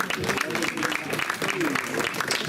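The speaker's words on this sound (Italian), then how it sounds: "Un applauso a Pierino." An audience applauds a man named Pierino at a poetry event in Atzara, with steady close clapping mixed with people talking over it.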